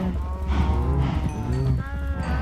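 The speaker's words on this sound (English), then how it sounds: "Let's feed the cows first." Cows in the Minecraft video game moo repeatedly while being fed wheat on a farm, several drawn-out, overlapping game moos at moderate loudness with a voice talking softly underneath.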